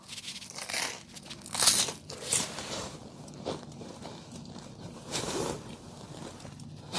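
A plastic wrapper around a cream-filled pastry from a Daejeon bakery crinkles and rustles in several close, uneven bursts, with soft handling noises between them.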